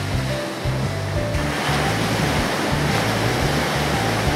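Ocean waves wash onto a sandy beach in a loud, continuous surf, with a low rhythmic churning of water running beneath the hiss.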